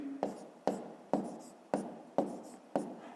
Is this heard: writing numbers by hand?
yes